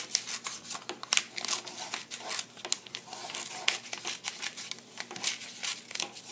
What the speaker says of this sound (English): take a piece of pair of scissors and start to cut out the teddy bear